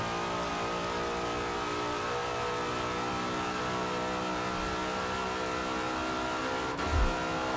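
A 1963 Chevrolet Corvette C2 in a racing video game runs at a steady, high-revving engine drone held in a high gear, with a brief low thump near the end.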